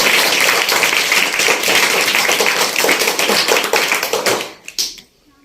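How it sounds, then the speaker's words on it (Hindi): An audience breaks into loud, dense clapping after a talk about a national innovation, a sustained wall of hand claps that holds steady for several seconds before thinning out and stopping with a few last claps. "इसके लिए भी एक बार जोरदार तालियां"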